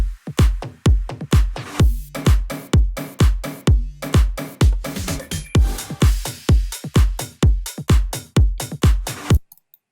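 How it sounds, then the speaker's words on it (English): Punchy programmed drum beat built from default plugins with no synths, kick and snare hits repeating in a tight steady rhythm, loud and close with sharp decaying attacks, stopping abruptly near the end. "only the drums here."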